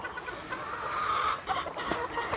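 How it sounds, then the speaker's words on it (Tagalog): Chickens clucking close by, a few soft bursts of clucks over a quiet background, no talking. "Grabe, kakatuwa, manok."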